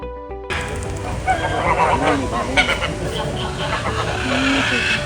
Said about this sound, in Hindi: ये एरिया में बस पंछी ही पंछी है, वो भी अलग अलग रंग के